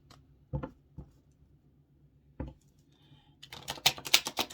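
A few soft taps and riffles, then a quick burst of crisp, rapid card flicks as a deck is shuffled close by.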